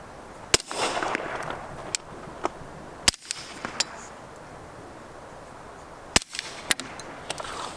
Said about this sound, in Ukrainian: Маю тут такий пістолет Glock 5 генерації з прибором безшумної стрільби, спеціальними набоями.